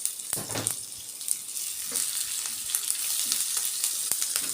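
Green chili and curry leaves crackling in hot tempering oil for rava idli, a continuous close sizzle with small pops throughout, no voices.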